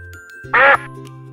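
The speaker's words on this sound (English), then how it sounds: "A duck quacks and waddles, quack, quack." A duck gives a single short, loud quack, close by and isolated against a soft tinkling musical background.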